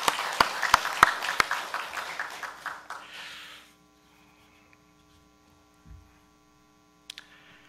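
A church congregation applauds after a choir performance, a burst of clapping that fades away after a few seconds, leaving a quiet room with a faint electrical hum and a few stray sounds.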